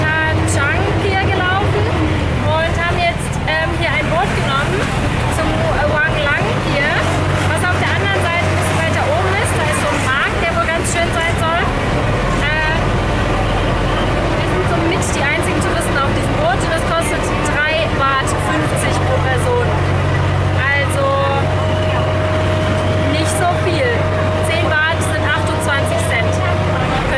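A steady engine drone with water churning beneath a constant busy background from a river boat underway to Wang Lang in Bangkok, with occasional voices and a faint tonal whine late on.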